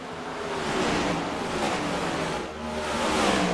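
Simulated NASCAR Next Gen stock cars race around Bristol Motor Speedway in iRacing, producing a dense, steady engine roar that swells and dips slightly as the pack laps, with no talking.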